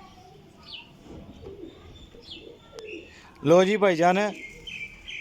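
Frizzled fancy pigeons kept as breeder pairs coo and chirp softly at close range. A voice briefly speaks over them partway through.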